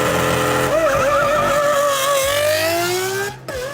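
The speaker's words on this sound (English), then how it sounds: "This, it still gives you that classic V12 engine," A 1991 Lamborghini Diablo V12 pulls steadily while driving, a loud continuous engine note rising gradually in pitch under acceleration before easing off near the end.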